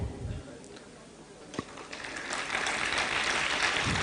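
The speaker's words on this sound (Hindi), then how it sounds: "एक बार फिर से जोरदार तालियां" Audience applause at a Human Rights Day gathering builds from scattered claps into steady, fairly loud clapping from a crowd, with a brief voice heard near the start.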